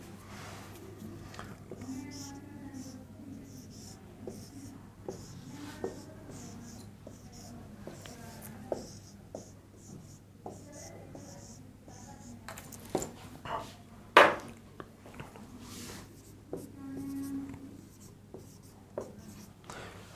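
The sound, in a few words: writing out a question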